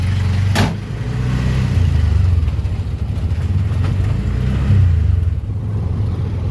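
Auto rickshaw engine drones steadily from inside the vehicle while driving, a loud mid-pitched rumble with slight rises and dips in revs and a brief sharp click near the start, with no talking.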